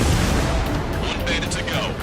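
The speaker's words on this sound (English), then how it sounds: "Strider 3 launching missile." A missile launches from a fighter jet in the flight game Ace Combat 7, a loud, steady roaring whoosh over dense engine rumble, with radio voices chattering briefly over it.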